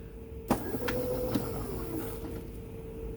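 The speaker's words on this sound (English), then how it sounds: "That's the brake." Brake engaging on a Power Wheels ride-on converted to 48 volts, raised on a block: a sharp click followed by a steady low electric hum, close and quiet, with a few faint ticks.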